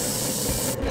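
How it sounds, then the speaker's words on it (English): An oscillating spindle sander shapes wooden guitar ribs, giving a steady close whirring hiss of motor and abrasive on wood that runs unbroken for about a second. "the oscillating spindle sander"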